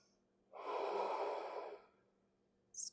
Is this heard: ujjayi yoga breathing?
yes